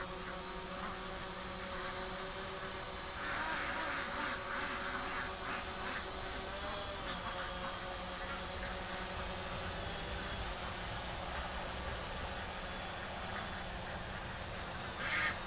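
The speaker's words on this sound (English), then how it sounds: "The ducks are doing pretty good though." Ducks quack in a scattered cluster of calls through the middle stretch, set against a steady, fairly loud background wash that continues throughout.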